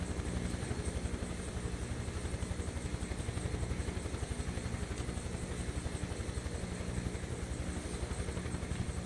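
Helicopter engine and rotor from Microsoft Flight Simulator 2024, a steady low rhythmic thudding with a constant turbine whine above it, close and continuous with no talk.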